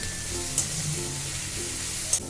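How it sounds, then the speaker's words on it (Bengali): Ginger and garlic paste sautéing in a pan for egg curry, a steady, close sizzle with two brief sharp clicks of a utensil against the pan. "একটু রসুন বাটা আর একটু আদা বাটা, দিয়ে এটাকে আমি একটু ভালো করে কষিয়ে নেব"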